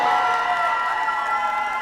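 Crowd at a Japan Expo stage event cheering and applauding the Epic Stars, a steady dense roar of clapping and shouts that holds at the same loudness throughout.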